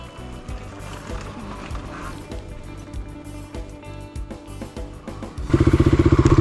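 A motorcycle on a forest trail revs and pulls through its gears, a loud, close engine note that surges sharply to a harsh, throbbing roar near the end, with no one speaking.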